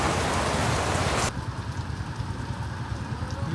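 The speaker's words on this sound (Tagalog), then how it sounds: "Biglang umulan eh." Sudden rain pours down as dense, loud hiss close by, easing slightly partway through into a steady patter on surfaces.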